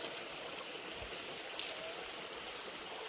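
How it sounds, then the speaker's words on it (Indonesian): Water of a stream above the Petolo waterfall in a forest, a steady broad rushing wash at moderate level, continuous and without talk. "Di tengah hutan di atas air terjun Petolo."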